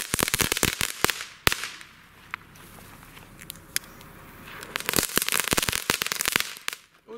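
Xplode X Game category 1 firecracker set going off close by: rapid, sharp crackling bangs cluster at the start, thin out to a quieter stretch, then burst again densely toward the end.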